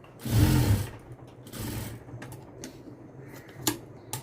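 A sewing machine stitches a blouse lining in short rattling bursts, the longest one first, then lighter intermittent runs of stitching, fairly close and with no voices.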